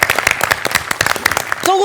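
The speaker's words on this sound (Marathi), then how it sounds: "टाळ्या." Applause on a comedy stage, with claps dense and steady under a brief cheer over about two seconds, then a sustained tone near the end.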